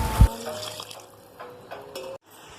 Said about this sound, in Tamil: மூணு டம்ளர் அரிசிக்கு 6 டம்ளர் தண்ணி ஊற்றிக்கலாம்.